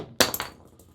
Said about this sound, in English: the difficulty with this side is that we have to whack it off with a hammer